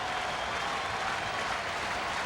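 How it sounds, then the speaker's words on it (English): Rhythmic applause from a baseball crowd at Fenway Park in 1983, urging a strikeout, a steady wash of distant clapping filling the stadium for the whole stretch with no talk over it. "Rhythmic applause, hoping for the strikeout."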